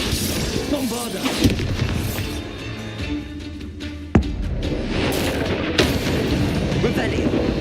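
Spell blasts boom and crack in the Hogwarts Legacy video game, several heavy impacts and one sharp bang amid a dense battle rumble, with a voice talking over the action.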